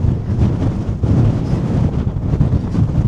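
Strong wind buffets the microphone high on a 2,000-meter mountain fortress, a steady, loud, low roaring rush with gusty swells throughout and no voices.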